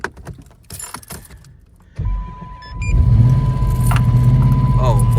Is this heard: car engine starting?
yes